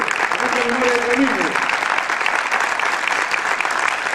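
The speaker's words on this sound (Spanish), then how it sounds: "Un aplauso para Antonio." An audience at a live oral improvisation showcase applauds the improviser Antonio, a steady dense wash of clapping filling the whole stretch at close, even loudness, with a faint tonal voice briefly surfacing early on.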